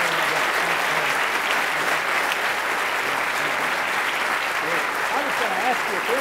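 Audience applause following a speech on Iraq and weapons of mass destruction, a dense, steady wash of many hands clapping at close range that holds evenly for the full stretch with no voices over it.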